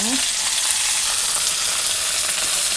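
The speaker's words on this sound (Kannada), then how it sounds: "ಒಟ್ಟಿಗೆ ಹಾಕ್ಕೊಂಡು ಎಣ್ಣೆಯಲ್ಲಿ ಫ್ರೈ ಮಾಡ್ಕೊಳ್ಳೋಣ" Okra, tomato and onion fry in hot oil, giving a loud, continuous sizzle with faint stirring scrapes running through it and no talking.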